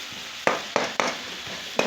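Tomatoes cooking down in a pan for methi sabzi with moong dal, a spoon scraping and stirring in four or five distinct close strokes over a soft steady sizzle.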